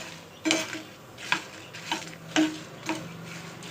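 Whole dried red chillies dry-roasting in a pan for curry leaf spice powder: five or six distinct scraping, clattering strokes of a spatula against metal, spaced about half a second apart, close and clear with no talking.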